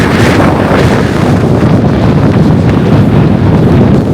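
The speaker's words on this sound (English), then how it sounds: "Extremely strong wind gusts of 50 meters a second." Hurricane-force blizzard wind gusting to 50 meters a second roars and buffets against the microphone, a dense rumbling blast that never lets up.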